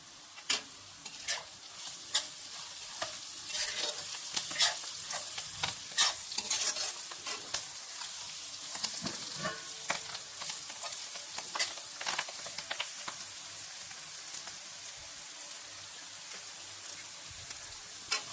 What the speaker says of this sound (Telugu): కర్రీ లీవ్స్ కూడా ఫ్రై అయిపోయాయండి